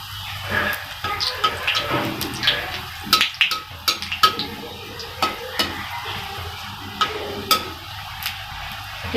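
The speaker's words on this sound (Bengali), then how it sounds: "সব বড়াগুলোকে ভেজে নিতে হবে" Pakoras frying in hot white oil in a kadai on a gas stove, a steady bubbling sizzle broken by frequent sharp pops and crackles, close and fairly loud, with no talking.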